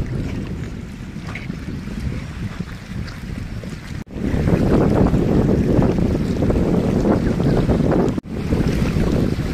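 Strong wind roars steadily into the microphone at Pong Dam lake on the Beas River, buffeting loudly with brief dropouts, over a low rush of water.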